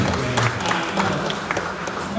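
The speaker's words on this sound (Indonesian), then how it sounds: "Tepuk tangan untuk PPPS." An audience at an Indonesian 2024 election-worker training session claps together, with brisk scattered applause filling the room under a voice speaking over it.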